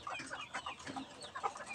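A six-month-old young rooster clucks in a quick series of soft, close calls over a brief moment, alone without talk.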